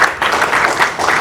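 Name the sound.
round of applause for the LimaCharlie team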